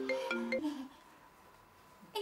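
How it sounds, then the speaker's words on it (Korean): A phone ringtone plays a short electronic melody of stepped tones in a Jeju-language TV drama, then cuts off, leaving a quiet room. "전화, 전화 왔잖아"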